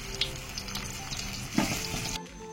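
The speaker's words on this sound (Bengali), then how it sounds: "ভাবছি পকোড়াটা ভেজে নি, একবার ফ্রাই করে তো রাখা আছে" Pakoras deep-frying in a pan give a steady, soft sizzle with faint bubbling and a few clinks, moderately close, no voices, before the sound cuts off abruptly near the end.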